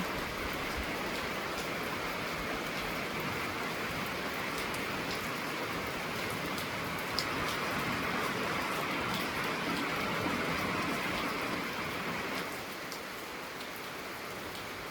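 Steady rain falls on a rural vegetable garden sown with young radish and cabbage seedlings, a dense, even hiss that holds for the whole stretch with scattered drop hits and a slight dip near the end.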